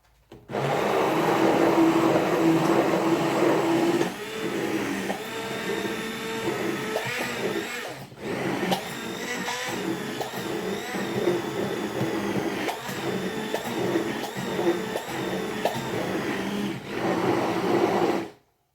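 An electric mixer beats a mango mousse mixture with cornstarch added, giving a loud, steady motor whir with brief pauses and changes in pitch as the beaters churn, close by and without talk.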